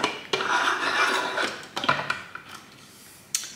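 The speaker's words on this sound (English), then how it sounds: "Then you're going to screw the lid back onto the base" De'Longhi moka pot lid being screwed onto its base, loud close metallic scraping and rubbing with sharp clinks and taps, the grinding strokes coming in uneven bursts before a final knock.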